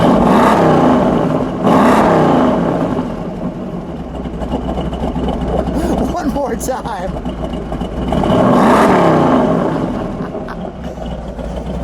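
Revving of a 1970 Dodge Charger R/T SE's 426 Hemi V8, with two loud swells of throttle at the start and near the end around a rougher idle, under people talking nearby.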